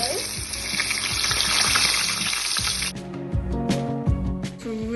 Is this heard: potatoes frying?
yes